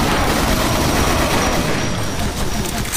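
Dense, continuous pistol gunfire from dual pistols in the Project Brutality Doom mod, rapid overlapping shots filling the whole stretch at close, loud level.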